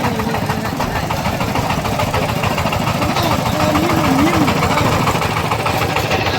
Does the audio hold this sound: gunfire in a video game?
no